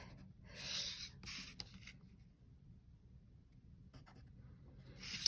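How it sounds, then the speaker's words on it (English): Pencil drawing lines on paper while sketching buildings in one-point perspective: a few scratchy strokes early on, then a quiet stretch, with more faint strokes near the end, close up and fairly soft. "So I connect the roof with a vanishing line and I draw the horizontal side."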